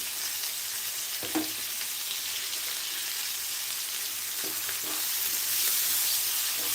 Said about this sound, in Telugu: కట్ చేసి కడిగి ఉంచుకున్న తోటకూరని అయితే ఇందులో వేస్తున్నాను